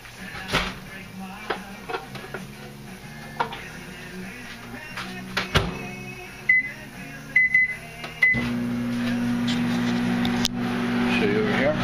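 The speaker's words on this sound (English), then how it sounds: "now I'm going to stick it in the microwave" A microwave oven heating a pancake bowl-cake: a few short beeps, then a steady low hum that runs to the end, with scattered clatter and speech beforehand.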